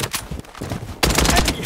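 Rapid automatic gunfire in the shooter Blood Strike crackles in a short burst, quieter shots at first and then a loud, dense volley close by.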